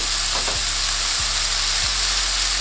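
Onions and peppers sizzle loudly and steadily on a hot griddle for a chopped cheese, a constant bright frying hiss with a few scraping stir strokes, no voices.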